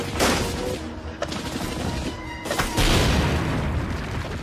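A grenade blast in an Indonesian independence war film, heard as heavy, loud booms and crashing impacts with a dense rumbling bed, several bursts in quick succession.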